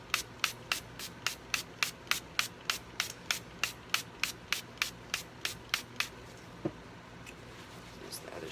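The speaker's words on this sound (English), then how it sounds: "So we're going to spray it all really good again." A spray bottle of cleaner mists a tumbler cup in a quick, evenly spaced run of about twenty short, close, crisp squirts, then stops, leaving quiet room tone.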